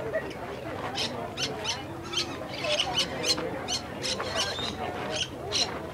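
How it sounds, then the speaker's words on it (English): Lory parrots give repeated short, harsh squawks at an apple feeding, in a steady scatter of calls over murmuring background noise, with people talking faintly nearby. "Oh, that's a bird."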